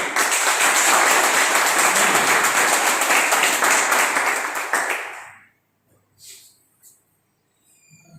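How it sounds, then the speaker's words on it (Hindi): Loud, dense applause from a crowd at a Bapuji Enterprises business gathering, sustained for about five seconds before stopping abruptly, leaving a few faint scattered sounds afterward. "दोस्तों जोरदार तालियां हमारी सभी के लिए और प्रशंसा के लिए।"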